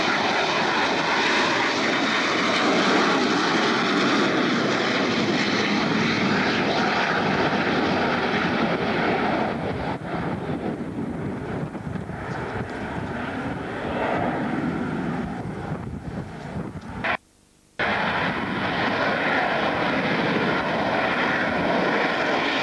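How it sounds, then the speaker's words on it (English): Fixed-wing aircraft, including a dark two-seater, flying at an airshow at Kemble or RIAT in 2001, with a loud, steady engine drone that fills the whole stretch and drops out only for a brief moment near the end. "Who's flying these aircraft?"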